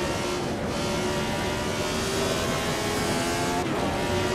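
Lotus 72 race car engine in Assetto Corsa, a continuous loud, close, high-revving engine roar with a brief dip in pitch as it shifts gear.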